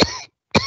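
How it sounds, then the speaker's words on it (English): Two sharp coughs from one person, a loud burst at the start and another after a short silence, part of a small coughing fit, with no talking. "Apparently, I have a little coughing fit."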